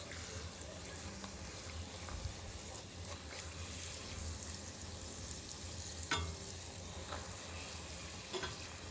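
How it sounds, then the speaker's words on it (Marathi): Puris deep frying in hot oil, a steady close sizzle and bubbling that holds at an even level throughout, with a few faint clinks and no clear talk. "आणि इकडे मी पुऱ्या तळायचं काम करते"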